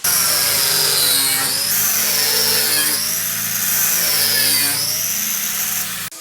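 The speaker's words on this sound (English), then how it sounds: "we're going to grind this area here and on both sides" A power grinder works across the pad eye area of a metal fabrication, a loud continuous whine that rises and falls in pitch in slow waves as the tool is pressed and eased, cutting off abruptly at the end.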